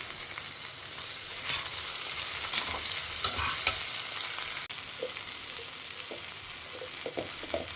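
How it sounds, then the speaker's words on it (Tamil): Brinjal and potato sauté in a pan in a home kitchen, giving a steady soft sizzle with occasional scraping and stirring clicks. "ஸோ லேசாக இப்போ கத்திரிக்காயும் உருளைக்கிழங்கும் வதங்கியிருக்கு."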